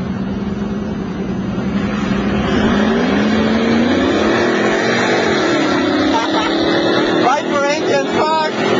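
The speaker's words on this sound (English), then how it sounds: "Viper engine" The engine of a Dodge Viper SRT-10 roars near and loud, holding a steady rising drone, while people talk excitedly over it.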